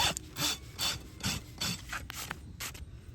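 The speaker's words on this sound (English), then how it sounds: "Now I'm going to address this hoof from the top with my rasp" A farrier's rasp files a Tennessee Walker's hoof in a trim after foaling. The gritty rasping strokes are close and loud, arriving in a regular back-and-forth rhythm of about six passes, with no talking.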